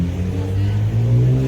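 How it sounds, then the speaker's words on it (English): A Lexus with a modified exhaust accelerates on a downtown street at night, its deep engine note rising and swelling over about a second and a half, loud and fairly close. "He's got a modified exhaust for sure."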